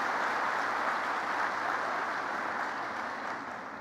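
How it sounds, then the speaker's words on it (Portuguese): Audience applause at a church sermon, a dense, steady clapping from a large crowd that fades slightly at the end. "Uma salva de palmas a esses caranguejos."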